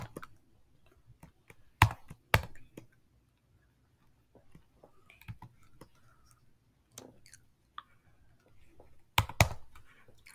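Sparse clicks and taps of manual typing on a computer keyboard, irregular keystrokes close by with a few louder clustered hits and long quiet gaps between.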